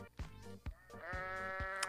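A goat in the video game Goat Simulator lets out a loud, drawn-out wavering bleat, close and prominent, with a few rhythmic thumps of game music or effects underneath.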